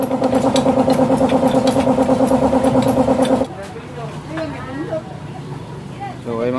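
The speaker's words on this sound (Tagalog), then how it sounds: "Ito yung pala yung motor natin mga brad." A motorcycle idles loud and near in a steady chugging pulse for a few seconds, then cuts out, leaving a quieter rumble while someone talks.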